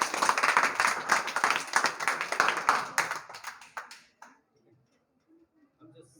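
A group of students in a classroom claps hands in a quick, uneven burst for about four seconds, with voices mixed in, before it cuts off into near silence with faint murmurs.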